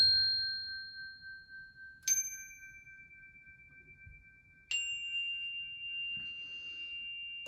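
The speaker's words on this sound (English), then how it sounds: "let's listen to the chimes" Chimes struck one at a time, three clear ringing tones spaced a couple of seconds apart, each sustaining and slowly fading in a quiet room.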